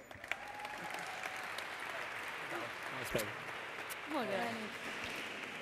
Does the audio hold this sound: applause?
yes